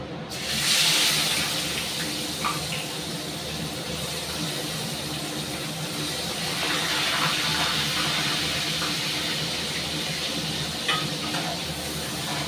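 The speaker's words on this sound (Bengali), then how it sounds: "তা তেলটা আমার গরম হয়ে গেছে, এর মধ্যে আমি পেঁয়াজটা দিয়ে দেব। কুচানো পেঁয়াজটা দিয়ে দিচ্ছি।" Chopped onion sizzling in hot oil in a home kitchen pan, a steady loud hiss that holds evenly throughout with faint crackles and no talk.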